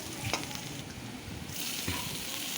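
Food sizzles steadily in hot oil as turmeric powder is stirred in, a continuous close frying hiss with occasional scrape-like taps of the spoon against the pan, no voices.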